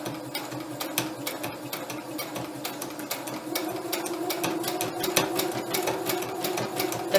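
A sewing machine stitches a buttonhole in a steady, fast mechanical rattle with a constant whir underneath, running continuously and close without any talk.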